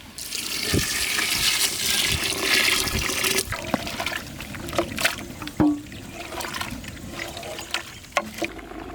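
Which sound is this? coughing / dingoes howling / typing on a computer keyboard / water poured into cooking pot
water poured into cooking pot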